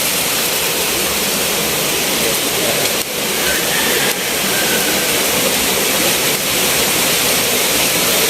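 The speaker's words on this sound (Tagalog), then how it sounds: "Dito pa lang makikita nyo na ang agos ng spring. Lakas, grabe." Strong rushing flow from a spring at the Panicuason Hot Spring resort in Camarines Sur, Bicol, a steady loud broadband roar of water that holds constant throughout with no voices.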